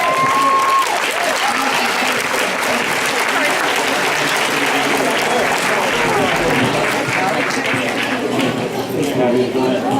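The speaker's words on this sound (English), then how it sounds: "Let's give them all a big round of applause." A dense, loud round of applause fills a school board of education meeting, continuous and steady throughout with crowd murmur and voices mixed in.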